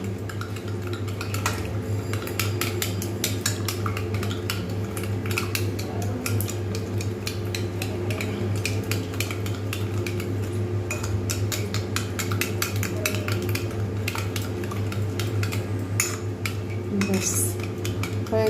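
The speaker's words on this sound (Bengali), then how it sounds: "এবার এটাকে ভালো করে আমি কিন্তু ফাটিয়ে নেবো" Plain curd seasoned with a little black salt is beaten hard with a spoon in a bowl for doi bora, giving a steady, rapid, close clinking and scraping of metal on the bowl that continues throughout.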